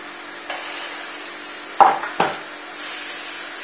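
A lentil burger patty laid on a very hot griddle, giving a steady close sizzle with two brief sharper crackling bursts as the mixture settles, no voices.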